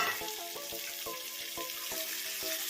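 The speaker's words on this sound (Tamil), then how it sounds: "சிக்கனையும் நல்லா எண்ணெயில் போட்டு வணக்கிடலாம்" Chicken pieces sizzle and fry in hot oil for a Chettinad chicken gravy, a steady dense crackle with sharp spatters and stirring clacks at a close, even level.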